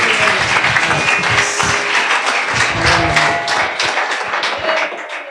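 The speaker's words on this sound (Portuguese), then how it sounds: "Aplauda ao Senhor nessa noite." A church congregation claps during an evening service, a dense, loud wash of many hands applauding that carries on steadily and eases slightly toward the end.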